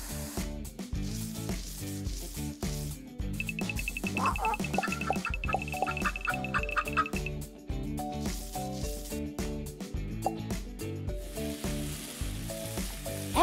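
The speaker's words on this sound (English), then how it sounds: "Egg whites are on a tiny frying pan." Egg whites sizzle and crackle steadily in a tiny frying pan, a close, continuous frying hiss mixed with light stirring and scraping noises under background music.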